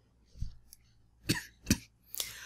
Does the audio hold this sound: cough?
yes